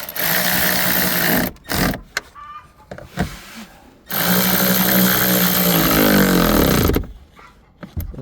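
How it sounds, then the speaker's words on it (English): An electric automatic ratchet tightens nuts on the shifter cable of a 2012 Chevy Spark with automatic transmission, whirring loudly in two long bursts with short stops and rattles between them. "I have my trusty automatic ratchet."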